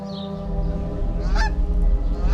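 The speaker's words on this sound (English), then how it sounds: "that is a lot of geese" A flock of geese honks loudly and repeatedly, harsh overlapping calls close by with a steady low rumble beneath.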